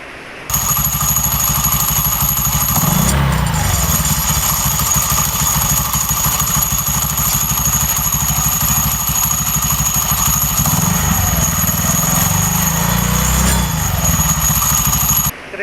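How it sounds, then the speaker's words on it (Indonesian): An automatic scooter with a Reveno clutch idles loudly and steadily, a continuous metallic jingling rattle from the clutch housing running over the low throb. "clutch Reveno ini bisa bunyi kerincing-kerincing ya."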